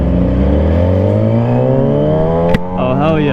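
A straight-piped motorcycle exhaust, with a loud close engine tone whose pitch climbs steadily as it revs and a sharp crack near the end, then a wavering tone as it settles.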